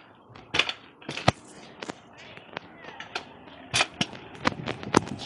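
A skateboard being ridden without tricks, its wheels rolling with a run of sharp clacks and knocks at irregular intervals, fairly close, over a low rumble with no talk.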